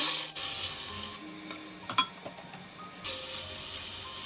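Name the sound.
marinated chicken added to frying garlic, sizzling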